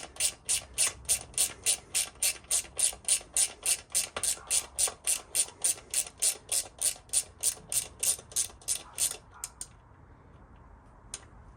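A ratchet spanner winds out the chain adjusters on a Triumph Daytona 675 motorcycle, giving a steady run of about thirty close, crisp clicks that stop abruptly, with no talking.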